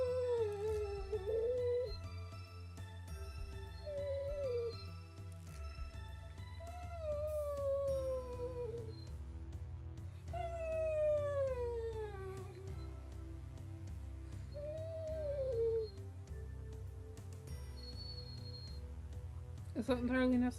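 A dog howls noisily in repeated rising and falling wails, close and loud, over a steady low background hum, with a person's voice speaking around it.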